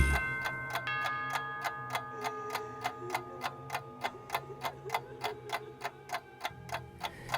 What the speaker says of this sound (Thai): เสียงนาฬิกาก็บอกเวลา หกทุ่มตรงพอดี